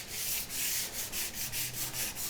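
Sandpaper held by hand rubs along a wooden edge to round it, making steady back-and-forth scratchy strokes in a quick rhythm, close and alone with no talk.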